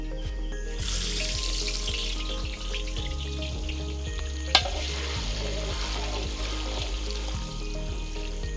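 Tempering sizzles loudly and steadily in a pan for mutton dal, a close hiss of frying with repeated stirring scrapes and one sharp clink midway.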